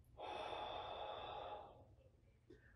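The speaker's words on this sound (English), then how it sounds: "breathe in, breathe out" One person breathing during a gentle hand exercise: a long, soft, close breath that fades out, followed by quiet.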